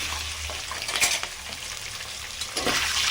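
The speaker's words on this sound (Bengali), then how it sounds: "তো এখন আমি ডিমটারে একটু তেলের মধ্যে ফ্রাই করব" Eggs frying in oil in a pan for a spinach and egg curry give a steady close sizzle and crackle, with a couple of brief louder stirring or utensil scrapes partway through, and no talking.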